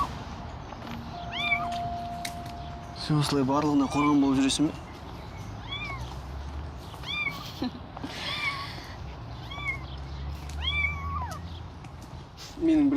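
A kitten meowing in several short, high, rising cries scattered across the scene, fairly close, mixed in with people talking and a faint background music tone.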